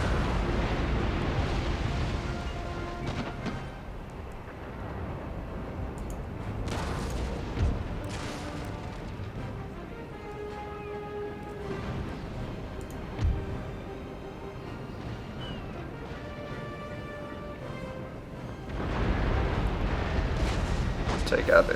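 Ship cannons firing chain shot during a naval battle in Empire Total War, repeated booming broadsides and rumbling explosions across a long stretch, with someone talking over the gunfire.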